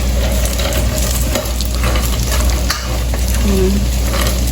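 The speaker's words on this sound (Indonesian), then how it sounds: "itu tadi udah digoreng dulu, cuman karena masih belum begitu matang, jadinya ya dioseng gini aja" Steamed-then-fried siomay dumplings being stir-fried in a pan give a steady, loud sizzle with scraping stirs throughout, close and continuous, no talking.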